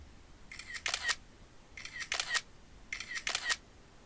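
A phone camera shutter firing while taking a selfie in Snapchat: three evenly spaced, bright electronic click-bursts about a second and a half apart, quiet and close with no talking.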